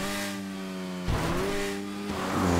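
Car engine in GTA V held at full throttle during an Observatory time-trial race on PC, a loud sustained revving drone with rising pitch and gear shifts around one and two seconds, no talking.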